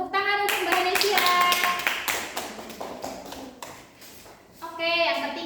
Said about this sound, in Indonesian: Tepuk tangan untuk Mbak Hanesia.